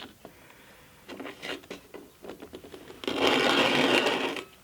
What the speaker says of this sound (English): that's boiling water in there.